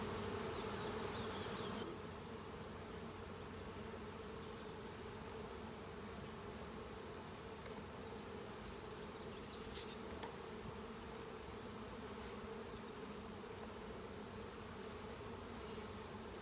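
Honey bees buzzing in a steady, dense drone during a hive inspection with brood frames out, constant and close with faint, scattered clicks over the swarm hum.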